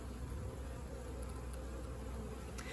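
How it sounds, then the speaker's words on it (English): A honeybee swarm hums around a hive box as the last stragglers settle in, making a soft, even, continuous drone with no voices over it. "hopefully these last 50 or so bees are going to settle down"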